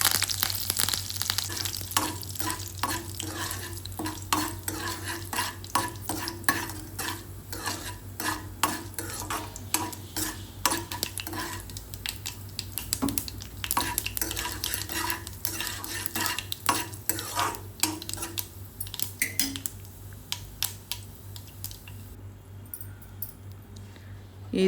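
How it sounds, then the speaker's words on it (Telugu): Hot tempering is stirred into raw cucumber pieces for a cucumber chutney. A spoon scrapes and clicks in quick, repeated strokes over a faint sizzle, close by, with a low steady hum underneath. "తాలింపు వేగిన తర్వాత ముందుగా కలిపి పెట్టుకున్న దోసకాయ పచ్చి ముక్కల్లో వేసుకోవాలి"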